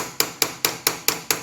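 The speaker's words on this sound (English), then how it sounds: "And I use a screwdriver which is suitable for hammering. You can see it's got the hard end, and lightly hammer it down" A hard-ended screwdriver is lightly hammered to bend the tabs of a lock washer during a 2017 KTM engine bottom-end teardown. Six sharp, evenly spaced metallic taps ring out close by, with no talking.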